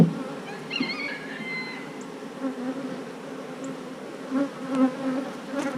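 Honey bees swarm over a brood frame pulled from a hive, a dense continuous buzzing drone nearby with a few individual bees flying closer and louder now and then.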